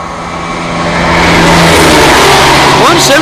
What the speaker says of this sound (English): we've got another Turbostar unit now, about to race from Needham Market Station on its way to Ipswich